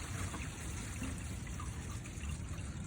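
Water from an RV black water tank drains through a hose in a steady, continuous rushing gush, fairly close and alone with no voices.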